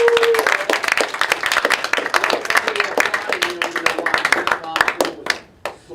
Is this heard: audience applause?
yes